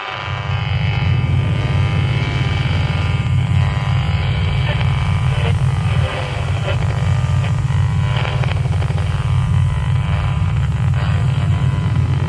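A star's vibration turned into sound, a loud, steady low drone with a sustained buzzing hum that holds unbroken for the whole stretch, with a slight dip partway through.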